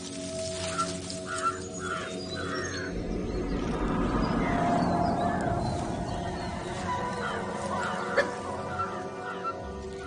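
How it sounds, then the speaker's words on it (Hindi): Alarm calls of wild animals in the Kabini forest, raised against a pack of wild dogs: several short chirping cries early on over a steady low forest hum, with a sharp call near the end. "ये अलार्म कॉल्स मुझे लेकर नहीं दी जा रही।"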